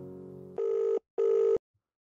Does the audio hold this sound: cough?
no